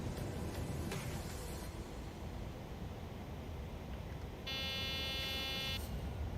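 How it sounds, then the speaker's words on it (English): Cockpit warning alarm in Microsoft Flight Simulator, a steady tonal buzz that starts near the end of the clip and keeps sounding over a constant loud engine and cabin roar, with no talking. "that alarm won't turn off"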